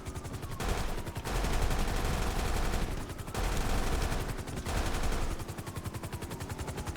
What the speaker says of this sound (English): I think this is like the M14 weapon we're using right now